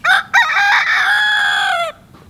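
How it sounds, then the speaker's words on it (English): A rooster crows once in a long, loud, drawn-out call at a quiet spot beside a fishing flat, with a brief squawk just before and chickens around; no one speaks. "Chickens are doing their thing. The roosters are roostering."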